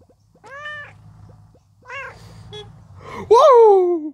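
Meows come from a cat in the Crossy Road video game, three separate calls over low background game sound, with the last one the loudest and longest.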